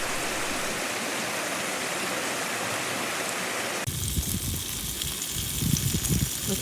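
A spring-fed creek in the Deschutes National Forest flows with a loud, continuous broadband rush, shifting partway through to a nearer, more uneven babble of water over rocks.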